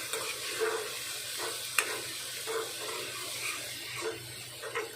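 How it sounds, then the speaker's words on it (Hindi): Chillies, turmeric and masala frying in a pan for aloo gobhi sabzi, a close steady sizzle with repeated scraping stir strokes, one sharp clink of the spoon, no talk. "तीखी वाली मिर्च, और अब इसे कर देते हैं अच्छे से मिक्स।"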